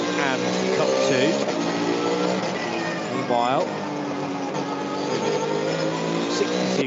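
Race cars, including Porsches in the SP7 and Cup 2 classes, roar past at the VLN endurance race on the Nürburgring, with engines revving and shifting pitch as they accelerate, all under continuous commentary.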